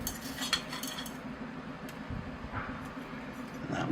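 Bamboo-styled spoon working bonsai soil into the root system of a small rubber tree, soft scraping and gritty scooping with a few light clinks, close and quiet, no voices.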